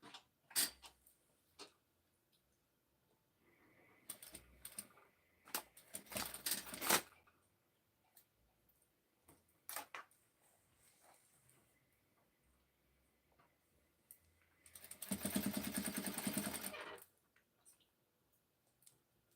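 A sewing machine stitching fabric in short, intermittent bursts of rapid mechanical ticking, with quiet pauses between runs and a longer, louder stretch of stitching near the end.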